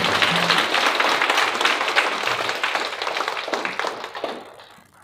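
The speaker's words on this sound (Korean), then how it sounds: "참석해 주신 군수님께 박수를 드리겠습니다." Audience at a lecture on international affairs and unification applauds with dense, steady clapping that fades out after about four seconds.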